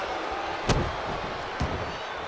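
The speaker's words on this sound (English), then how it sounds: "A jumping stomp to the gut." Wrestler landing a jumping stomp to an opponent's gut in an arena match, two sharp thuds against the ring over a steady crowd roar.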